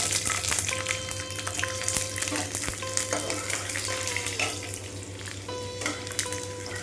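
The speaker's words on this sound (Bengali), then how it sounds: "এই যে দেখো গোটা রসুনটা দিয়ে লাল লাল করে ভেজে নেব" Whole garlic frying in hot oil with cinnamon stick and cardamom pods in a home kitchen pan, a loud, continuous crackling sizzle with a low steady hum beneath and occasional sharp clicks.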